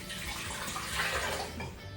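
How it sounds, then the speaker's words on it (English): Water poured into a kitchen blender as the first liquid for a banana strawberry smoothie, a steady close splashing rush that swells slightly midway, with no talking. "I'm gonna add my water"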